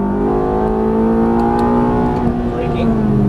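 A Ferrari F430 engine pulls hard under throttle on a hilly track, a steady loud rising drone with a faint voice coaching over it.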